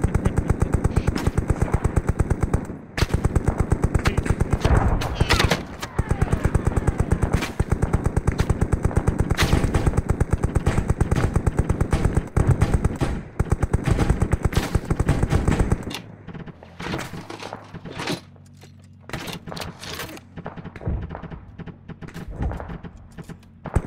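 A Maxim machine gun firing in Arma 3, loud and sustained with rapid continuous bursts and a few brief gaps for about sixteen seconds, then a quieter stretch with scattered single shots.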